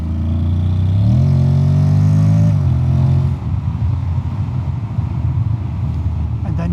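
A Honda X-ADV 750 motorcycle engine pulls hard in sport mode, its loud, steady drone climbing in pitch, holding, then giving way to rougher rushing wind and road noise.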